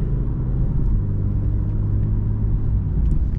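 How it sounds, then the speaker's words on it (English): Steady low engine rumble and road noise from a BMW M240i xDrive cruising in comfort mode, a smooth continuous drone heard from inside the cabin with no talking. "Right now we're driving in comfort mode."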